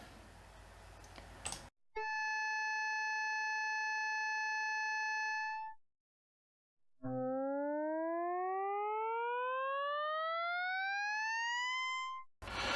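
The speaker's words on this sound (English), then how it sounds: "Now we have a single tone, which is supposed to be 440 Hertz, concert A, and a rising tone." A synthesizer built from coupled oscillators sounds a steady 440 Hz concert A tone for a few seconds. After a short silence, a second tone glides steadily upward, both clean, loud and slightly recorder-like.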